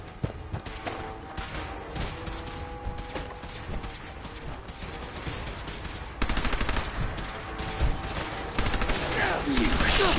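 Rapid automatic gunfire from the Fallout 4 video game rattles in dense bursts, growing louder and heavier toward the end, with game sound effects and occasional voices mixed in.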